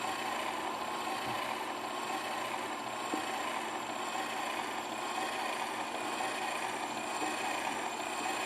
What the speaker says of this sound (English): The engine effect is pretty cool.